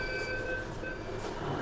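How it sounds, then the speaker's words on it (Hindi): A Delhi Metro Blue Line train passes nearby, giving a steady, loud rumble of wheels and carriages with faint high squeals running throughout. "वो जो जा रही है वो ब्लू लाइन वाली मेट्रो है।"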